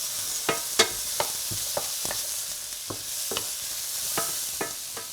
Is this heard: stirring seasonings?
yes